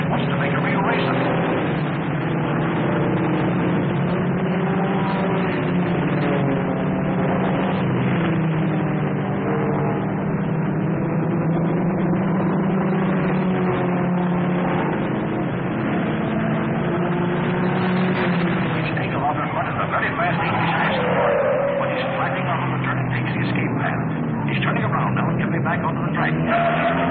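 Race cars, including a hot 17C, roar around a track in a 1955 film, their engines droning steadily and rising and falling under continuous excited race commentary, with a muffled, narrow old-soundtrack quality.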